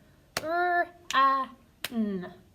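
Three sharp hand claps roughly evenly spaced in a children's phonics lesson, each followed by a voiced, toned sound, likely a voice sounding out a word in time with the claps.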